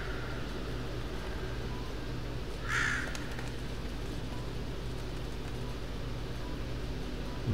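A single crow caw sounds once, brief and mid-loud, over a steady low ambient hum, from the puzzle video game The Room 3.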